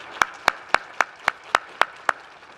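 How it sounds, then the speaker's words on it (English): Single pair of hands clapping at an academic research conference, eight sharp evenly spaced claps, close and clear with no talk. "Please give them a round of applause."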